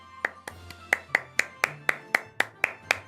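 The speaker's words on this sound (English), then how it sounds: "Round of applause, chat." A run of about ten sharp, evenly spaced claps from a single pair of hands, close and fairly loud, with no talking over them.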